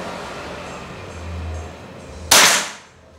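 A single sharp shot from a Bocap Hacker 500cc double-tube PCP air rifle on an outdoor shooting range at about 20 meters, at night, with a crisp crack that decays quickly after quiet ambient hum.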